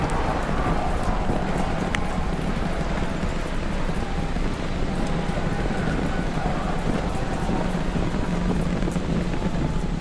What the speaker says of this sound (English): We are seeing 33 out of 33 Raptor engines ignited on the Super Heavy booster.